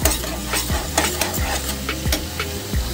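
Ground cumin and spices stir-fried in oil in a pan for Bengali doi begun, with steady sizzling and repeated rhythmic scrapes of a spoon against the pan, close and fairly loud, no talk.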